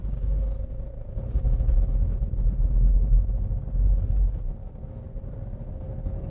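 A car pulls through a turn at a junction in first gear, its engine giving a steady, close low rumble with a faint hum on top, and no voices.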